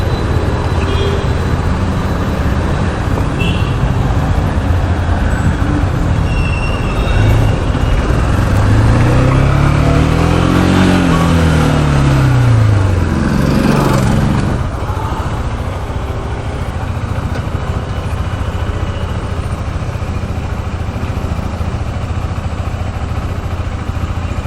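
A new KTM RC 390 motorcycle's exhaust note, a loud steady engine rumble that swells and rises in pitch as it revs in the middle, then settles back to a lower, steadier drone.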